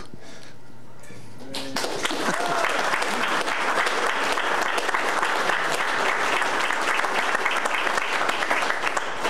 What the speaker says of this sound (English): I'd solicit hearty applause for this group